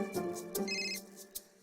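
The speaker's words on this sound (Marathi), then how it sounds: "आता फोन आला, फोन." A telephone rings at a TV-serial household during a festive colour-play gathering, a short electronic ringtone with repeated tonal bursts, fairly close and clear with no talk over it.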